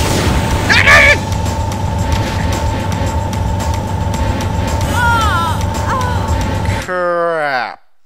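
Grenade explosion in the video game Parasite Eve 2, a loud burst and boom over game music and effects, followed by further game sounds that cut off sharply near the end.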